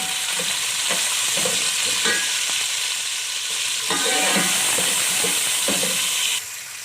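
Chopped tomato and green chilies fry in a pan for chana biryani, with a steady close sizzle broken by several stirring scrapes and clinks, and no talking.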